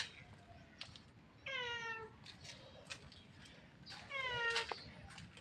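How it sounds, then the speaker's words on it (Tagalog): A cat meows twice, each a drawn-out, rising-and-falling cry a few seconds apart, fairly near against a quiet background with faint outdoor noise. "Nakakatuwa naman itong pusa"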